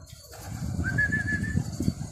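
Pigeons at a pigeon-keeping visit give soft, low cooing that repeats steadily through the clip, fairly close, with a thin whistle-like tone above it midway.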